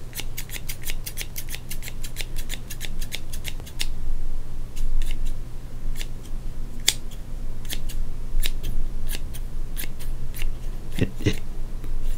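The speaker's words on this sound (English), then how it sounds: "What if I was to use the scissors like I was cutting your hair" Scissors snip close up near a baseball card in quick rapid bursts, then slower scattered cuts, crisp metallic clicks over a low steady hum.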